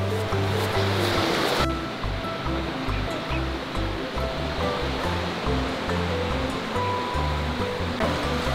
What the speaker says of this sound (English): we're gonna go across the beach where the tide pools are